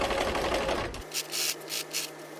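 A sewing machine stitches sofa slipcover fabric at close range: a short, quiet run of rapid, even mechanical whirring that halts about halfway, followed by a few soft ticks from the machine.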